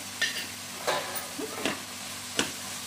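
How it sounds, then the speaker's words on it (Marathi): Sugar dissolving with rose petals in a pan for homemade gulkand, stirred steadily, giving a faint low sizzle broken by four soft scraping strokes of the spoon, close and without speech. "आपली साखर विरघळत आहे, तर सारखं असं आपल्याला हलवत राहायचं आहे।"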